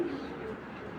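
A racing pigeon gives a soft, low coo close by, a brief throaty tone over a steady background hum.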